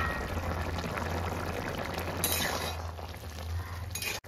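A metal lid clinks onto a pan of drumstick vegetables simmering for a Bengali posto dish, two sharp close knocks over a soft bubbling hiss.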